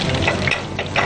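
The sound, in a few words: kebabs frying in a pan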